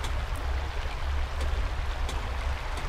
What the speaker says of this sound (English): Sounds like running water.